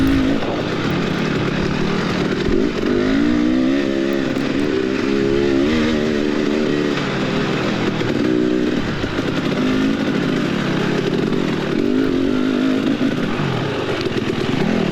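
Dirt bike tearing across a bumpy motocross course during a Senior C race at Moonshine Holler in Cadiz, Kentucky, its engine loud and close, revving up and down through gear shifts with constant rattling.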